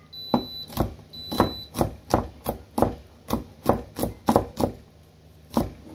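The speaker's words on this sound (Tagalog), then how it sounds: "narinig nyo, nagtutut na yung kanin namin" A rice cooker sounds two short, high electronic beeps near the start as the rice finishes cooking, over a run of about a dozen sharp rhythmic chopping knocks on a board in a home kitchen.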